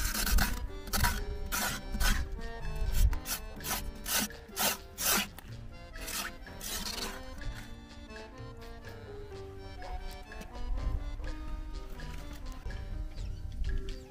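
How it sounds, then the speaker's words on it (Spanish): A scraping tool rasps rhythmically inside a maguey plant to draw aguamiel, making repeated rough strokes up close, first rapid and then slower and smoother, with no talking. "Esta es la herramienta que se utiliza para raspar"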